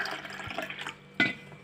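Water poured over jaggery in a small vessel to soak it for milk-and-jaggery temple offering, a short splashing fill with a brief sharp clink midway, nearby and quiet.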